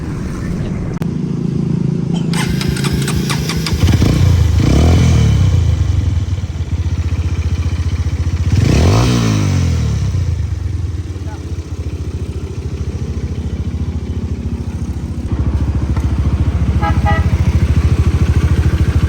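A motorcycle fitted with a swapped-in GS racing carburetor runs close and loud, holding a steady rumble with two rising revs partway through.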